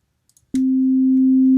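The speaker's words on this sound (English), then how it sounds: "See the sine wave." A basic sine wave tone from FL Studio sounds as a pure, steady, loud hum that starts abruptly after a few faint clicks and holds unchanged to the end.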